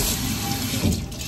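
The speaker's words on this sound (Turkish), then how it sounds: "Şuraya bir ilaç dökeyim, ondan sonra bitti." Domestos bleach cleaner pouring in a bathroom, a steady wet splashing stream running close up and fairly loud for the whole moment, with no talk.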